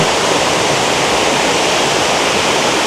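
Steady, full-bodied rush of a roadside waterfall in Abra, a constant broadband roar of falling water close by with no pauses and no voices.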